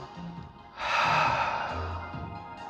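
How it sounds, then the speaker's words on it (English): A single deep breath, drawn in through the nose and then let out through the mouth, rises in the middle as a loud airy rush and fades slowly, close up, with no talk. "Nice deep breaths. In through the nose,"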